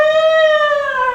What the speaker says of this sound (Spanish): el ruido de una sirena